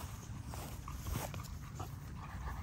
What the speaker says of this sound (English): Let y'all see the pups.